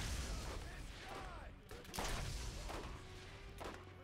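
Gunfire crackles through a busy Borderlands firefight, with repeated shots and bursts over a dense wash of game noise and music, loudest around the midpoint, while a voice talks briefly.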